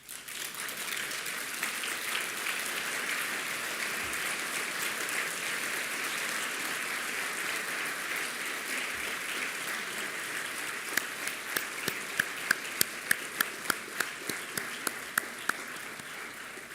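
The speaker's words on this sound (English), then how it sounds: "stand up and applaud all of this community that are here and elsewhere to support you" An audience at a commencement ceremony applauds steadily in a continuous wash of clapping, with a few sharper, louder individual claps standing out toward the end.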